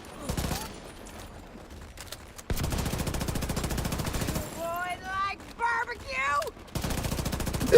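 Sustained automatic gunfire from the online shooter The Division, loud rapid bursts filling most of the stretch, broken by a brief gap where a short burst of voice-like sounds cuts in.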